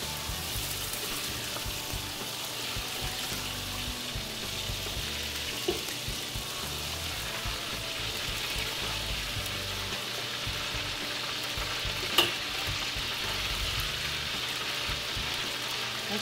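Pork deep frying in oil on a gas stove, a steady close hiss of bubbling fat running throughout with a couple of faint clicks and knocks and no talking.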